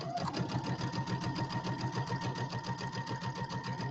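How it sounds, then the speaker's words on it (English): Close up, a sewing machine runs continuously while top stitching a settee pillow, giving a steady, fast mechanical whirring and rhythmic needle clatter at a low, even volume. "I've used these machines for a long time, and I've always top stitched this way."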